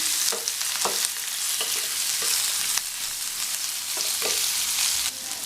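Cut potatoes with chili powder stirred in a hot pan, a constant sizzle broken by several scraping strokes of a spoon, close and fairly loud, with no talking.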